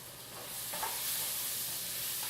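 Garlic sizzling in a hot pan, a steady close hiss of frying that swells slightly after the first half second and holds evenly, with no voices.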